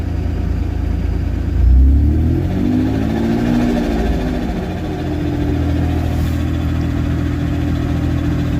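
A car engine, fired up for the second time, revs once early then settles into a steady, loud idle rumble close by, with no talking over it.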